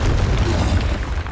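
Confringo fire spell exploding in Hogwarts Legacy, a dense low booming burst that rumbles loudly and steadily through the whole short moment with no gaps.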